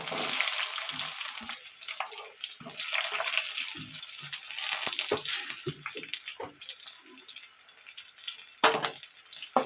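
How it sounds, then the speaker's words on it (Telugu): Crackling sizzle of chopped onions frying in a hot pan, with scattered pops and spits over a steady hiss, close by. "ఇప్పుడు ఇందులోకి కట్ చేసి పెట్టుకున్న ఆనియన్స్ వేసేద్దాం"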